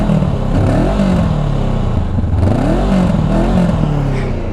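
An unmodified Honda CBR 500R parallel-twin motorcycle with its factory exhaust, idling and blipped in a muffled, steady rumble with gentle rises and falls in pitch, heard close and alone.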